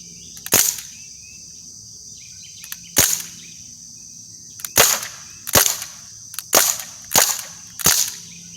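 An air gun fires BBs into an apple, giving seven sharp, loud cracks spaced irregularly with near-silence between shots, two early and isolated, the rest coming in a quicker run.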